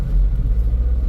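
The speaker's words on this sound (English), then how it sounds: "you hear that as I'm trying to accelerate?" A car engine with a suspected fuel feed problem strains and hesitates under acceleration, a loud, close, low rumble that pulses unevenly.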